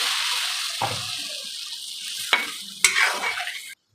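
Water hits hot oil left from frying hilsa fish, setting off a loud hiss that flares in a couple of sharp bursts, then fades and cuts off abruptly, with no voices.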